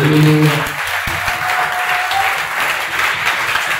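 A church congregation applauds during a service, a dense sustained wash of many hands clapping that fills the space, briefly overlapping a voice at the start.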